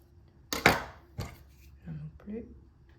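A knife chops food on a board in a home kitchen: two sharp, close cuts and then a softer third, followed by faint clinks of utensils.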